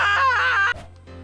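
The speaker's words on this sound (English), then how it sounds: "suddenly screams out loud" A character in the Re:ZERO video game lets out a loud, sustained scream of rising and falling pitch that stops abruptly, followed by a quieter murmur.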